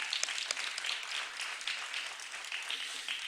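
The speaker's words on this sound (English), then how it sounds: "Let's give them a round of applause." Scattered clapping at a county freeholder meeting, honoring state coaches of the year, with crisp individual claps from a modest crowd, fairly faint and steady throughout.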